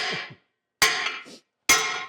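Three sharp hammer blows on a metal part while working on a 1956 International truck, each a loud close ringing strike about a second apart that decays quickly.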